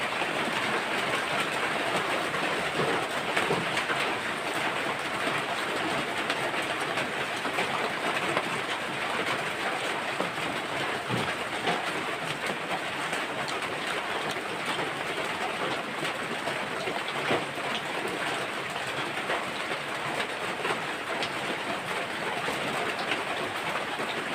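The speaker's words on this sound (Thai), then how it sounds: "เสียงฝนมากวนเลยพี่น้องเอ้ย" Steady, dense hiss of heavy rain continues without pause for the whole stretch, fairly loud and even, with no voices.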